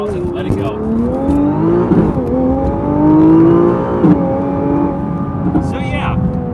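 A 2020 Nissan GT-R Nismo revs hard to about 4,000 rpm while held on the brake for a launch, a loud, close engine roar that rises and holds steady with some pitch swells, with people talking over it.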